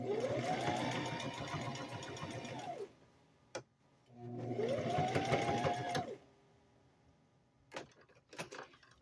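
A sewing machine top-stitches diaper covers in two bursts of a few seconds each. Each burst has a rapid whirring needle rhythm that speeds up and then slows. Quiet gaps with small clicks and handling noises separate the bursts.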